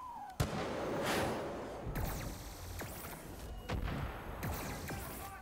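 Gunshots ring out in the video game Far Cry 5, several sharp cracks at uneven intervals over a dense, rumbling wash of game noise.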